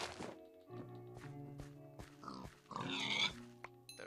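Pig grunts and oinks from Minecraft come in a string of short bursts near the listener, with dull game thuds and footsteps mixed between them.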